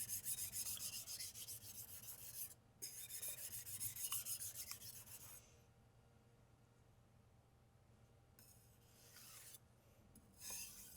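A blade edge is honed on a 1000 grit whetstone at about a 15 degree micro bevel, producing close, steady rasping strokes in two long bursts separated by a quiet pause, with no talking.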